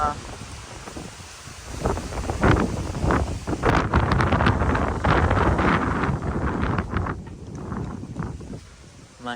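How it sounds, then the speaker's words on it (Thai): Gusty wind buffets the microphone outdoors, rising and falling in strength, with a voice talking over the roar. "ลมมาแห้งเลยดี"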